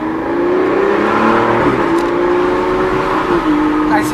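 Aston Martin with a 6-liter V12 pulling away from a standstill, a loud steady engine drone with a gear change partway through, close inside the cabin.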